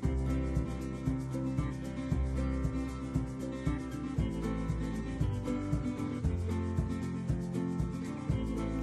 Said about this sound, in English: I went ahead and everything that was sticking out a little bit, I went over with sandpaper so that it looked a little bit more weathered